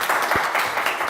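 Brief applause from a studio audience at a blind dating show, a steady wash of clapping hands for a contestant lasting about a second.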